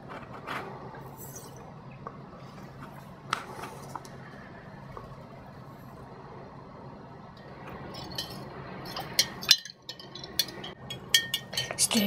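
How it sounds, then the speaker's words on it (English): A spoon stirs a sugar, Epsom salt and zinc electroplating solution in a glass, giving faint scraping at first, then a burst of bright clinks and taps that grows busier toward the end. "Stir, stir, stir."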